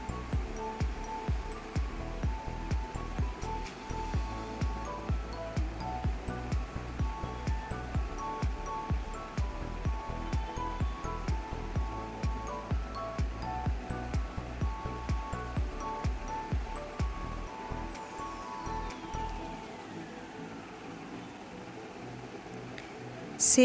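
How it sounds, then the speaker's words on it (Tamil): Chicken pieces sauté in hot oil in a pan while cooking chicken biryani. A steady crackling sizzle carries regular, rhythmic stirring pulses, then eases to quieter frying near the end. "சிக்கனோட பச்சை வாசனை போகிற வரைக்கும் எண்ணெயிலேயே நல்லா வதக்கிக்கிறேன்."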